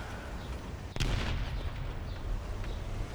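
A single heavy tank cannon shot booms in War Thunder, a sharp blast followed by a rolling rumble that decays over a steady engine drone.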